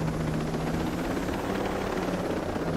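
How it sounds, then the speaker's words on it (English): A helicopter in the video game Ghost Recon Breakpoint drones steadily with a continuous rotor whir and engine hum, loud and close throughout, with no voices. "There's already a helicopter in there."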